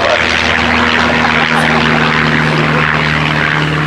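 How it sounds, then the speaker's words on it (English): Propeller airplanes roar low overhead during an outdoor church service, a loud steady engine drone with a constant hum that fills the whole stretch. "it's got to be airplanes, it's all good"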